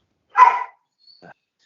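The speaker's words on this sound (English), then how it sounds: "Sorry, that's my dog." A domestic dog gives one short, sharp bark nearby indoors, followed by faint brief yips, with quiet pauses between.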